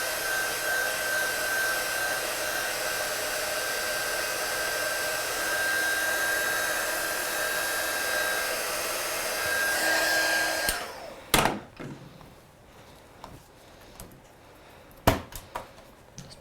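An electric heat tool blows hot air over a freshly stamped birthday card in a steady, close whooshing drone for about ten seconds, then cuts off, leaving a few sharp knocks and taps as things are moved around.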